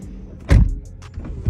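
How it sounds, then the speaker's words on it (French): A Rolls-Royce door swings shut on its own after a button press, ending in a heavy, close thud followed by softer mechanical clicks and a low motor hum. "La porte se ferme automatiquement"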